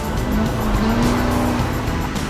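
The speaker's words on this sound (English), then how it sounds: "smoking some tires, even some hot laps around the drag strip or road course" Tires squeal loudly as a truck smokes its tires on pavement, a sustained screeching whine over revving engine noise, close and continuous.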